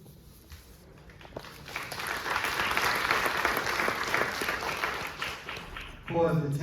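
Applause from the audience at a Sing Sing cast and crew Q&A held at the National Museum of African American History, a steady dense patter of many hands that swells and holds for several seconds, with a voice briefly heard at the end.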